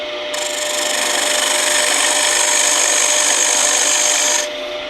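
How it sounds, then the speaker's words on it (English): A square nose scraper plunges into a turned wood lamp base on the lathe, cutting a recess with a steady, close, rasping scrape that runs for about four seconds before stopping. "And now we need to cut a recess into the bottom for the hardware and mounting. We'll use the square nose scraper."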